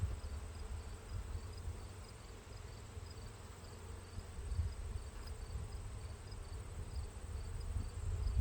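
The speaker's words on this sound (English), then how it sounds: "This looks like the last frame that really has any significant amount of bees on it." Honeybees buzz around a hive frame during a hive inspection, a dense, steady droning hum that swells slightly at times, close by with no talking.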